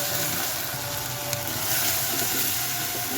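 Ginger and garlic paste fry with onions in hot oil for a tilapia and papaya curry, a close, constant hissing sizzle with faint stirring underneath and no talk.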